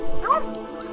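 A dog in the video game Rainswept gives a short yipping bark, a single bright yelp followed by a brief whine, fairly close and heard alone.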